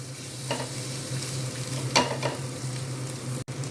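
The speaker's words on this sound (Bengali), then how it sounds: "তেল দিয়ে এই মশলাটা একদম লো ফ্লেমে আস্তে আস্তে এটা আমি ভেজে নেব" Spice paste frying slowly in oil over a low flame, a soft steady sizzle broken by a few stirring scrapes, quiet and close with no talking.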